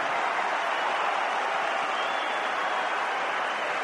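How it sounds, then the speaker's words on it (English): Swiss fans cheer and applaud at a tennis match in London after a Federer win, a loud, steady wash of crowd noise and clapping that fills the whole stretch without a break. "It's the Swiss fans that are cheering the loudest now."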